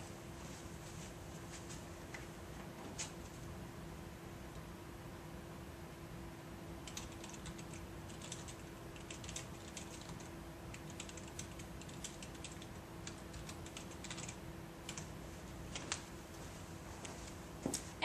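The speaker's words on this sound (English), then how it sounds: "Now I'm going to go to my keyboard and enter some text." Steady typing on a computer keyboard, a run of light, quick key clicks of fairly even rhythm over a constant low hum, close by and moderately quiet, with no talking.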